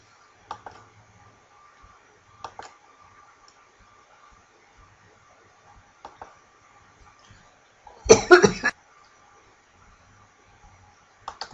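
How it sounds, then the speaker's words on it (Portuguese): A single short burst of coughing from a lecturer during a thermodynamics class, set against a quiet room with faint clicks before and after. "eu dei uma parada para dar uma tossida"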